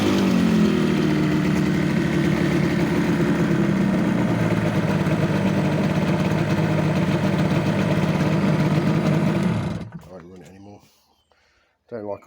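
A rebuilt Ford engine in a Kent LC car idles steadily while warming up, a close, continuous mid-low drone with a faint voice over it, then it cuts out and near-silence follows.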